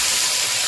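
Onions fry in a clay pot after garlic, giving a brief, loud, steady hiss of sizzling oil up close with no other sound.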